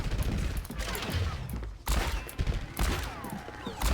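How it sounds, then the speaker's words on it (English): Overwatch gameplay with a roll into a flashbang, heard as a dense burst of gunfire and impacts with sharp cracks and a loud bang near the middle, busy combat noise throughout. "Don't be afraid to use that roll flashbang combo."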